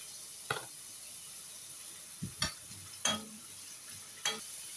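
Carrots frying in cooking oil in a pan, a quiet steady sizzle broken by a few sharp stirring scrapes and clicks, no talking.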